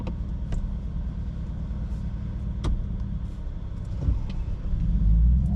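Steady low rumble of a 2021 Chevrolet Silverado Trail Boss pickup's engine idling from inside the cab, with a few faint clicks and a slight swell in engine noise toward the end.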